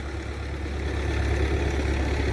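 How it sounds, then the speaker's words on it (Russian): Tractor engine running steadily at close range in a park, hauling a Gazelle trailer, a continuous low rumble with no speech over it. "Ага, этот трактор"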